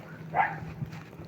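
A single short dog bark, muffled and somewhat distant, over a low steady hum, heard from a moving train in the Czech Republic.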